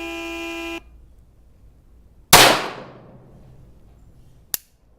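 A .22 rifle fires on an outdoor range at a timed-fire target with warm ammunition: a steady buzzer-like tone cuts off, then one loud, sharp shot rings out and decays, followed later by a single brief, fainter crack.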